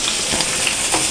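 Hamburger buns toast in a hot pan with a steady, close sizzle for about a second and no voices over it.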